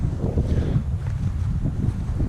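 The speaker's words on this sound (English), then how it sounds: "The wind's getting up a little bit, not much, but yeah, it's getting up." Wind blowing across open moorland on Dartmoor, a steady low rumble buffeting the microphone at moderate loudness with no voices.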